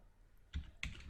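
Two quick, close keystrokes on a computer keyboard while a Jupyter Notebook command is typed, sharp and fairly loud against a quiet room.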